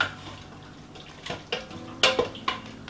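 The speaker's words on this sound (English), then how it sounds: "Give this a stir." A spoon clatters and scrapes while Sloppy Joe mix is stirred in an opened Instant Pot pressure cooker, with a few close knocks against the metal pot and a wet, thick rustle between them.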